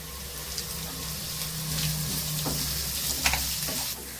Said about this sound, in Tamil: இப்ப நம்ம வெங்காயம் போட்டு வெங்காயத்தை நல்லா செவுக்க வதக்கலாம்ப்பா.